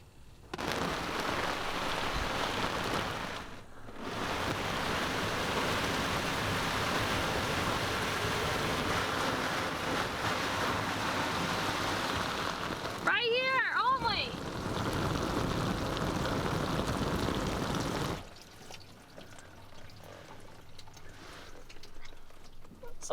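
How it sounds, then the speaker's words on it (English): A garden hose sprays a steady, loud rush of water over a Miata's raised soft top to simulate a rainstorm, broken by a brief pause and a splashy burst before the spray cuts off near the end. "gonna simulate a rainstorm with our hose"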